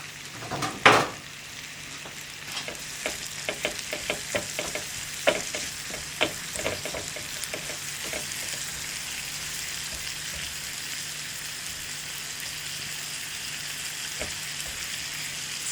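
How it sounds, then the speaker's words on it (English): Butter being infused in a pot on the heat, a steady gentle sizzle with repeated light clinks and scrapes of a utensil stirring, one louder knock early on. "And then I'll just keep stirring till we infuse that."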